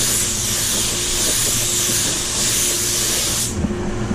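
A spray gun lays a medium wet coat of paint on a Range Rover Velar, a loud, steady, close hiss that cuts off near the end, leaving faint clatter.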